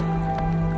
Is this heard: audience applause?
no